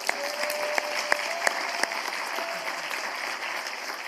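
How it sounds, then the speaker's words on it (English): Audience clapping to welcome a group of arriving kids into an indoor gathering, a dense, steady patter of applause with several sharp, louder individual claps standing out early on. "Everybody, let's clap for these friends that just made it."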